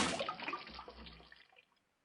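A splash of water as a princess wearing a bowl on her head throws herself into a river, a short close burst of churning water that fades quickly into silence.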